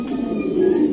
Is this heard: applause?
no